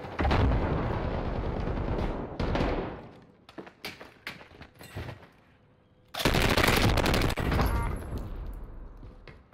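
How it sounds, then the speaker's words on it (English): Close gunfire and explosive bursts in a Warzone battle royale match around a thrown flashbang grenade, with a long dense roar of shots, a quieter gap of scattered pops, then another loud sustained burst. "Flashbang out!"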